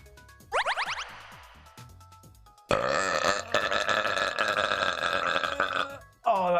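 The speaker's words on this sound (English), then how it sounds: "The burp was disgusting." A loud, drawn-out belch follows a drink of watermelon G Fuel; it starts abruptly after a faint sweep and a few soft knocks, rumbles for several seconds close up, then cuts to a brief voice.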